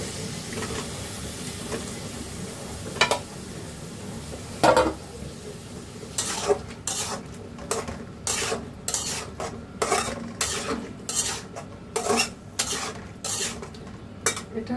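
Fish curry stirred in a cooking pot with a metal spoon, soft sizzling at first, then a run of rhythmic clinking scrapes against the pot, close and fairly loud.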